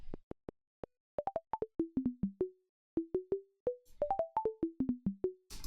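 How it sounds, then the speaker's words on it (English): Plucky synth notes from Ableton's Operator plugin play a quick melodic pattern of short, decaying tones with small gaps, then repeat it, clean and alone without reverb. "already it sounds a lot like a plug synth"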